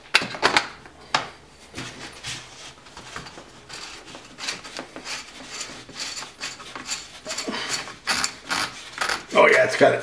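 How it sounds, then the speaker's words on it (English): Close, irregular ratcheting clicks and mechanical clatter as a Choate +2 magazine extension is forced onto an S&W 3000 shotgun, with a brief louder burst of clicking near the end. "Got some nice anti-locking ratcheting going on here."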